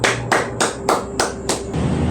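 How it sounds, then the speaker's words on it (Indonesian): Students in a classroom clap together in unison, with about six sharp, evenly spaced claps at a brisk, steady rhythm and no talking. "Tepuk tangan untuk diri kita sendiri"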